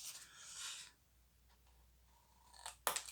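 Scissors trim paper for a scrapbook label box, making quiet close snips and rasping strokes, one longer cut at the start and a sharper pair of cuts near the end, with no talking.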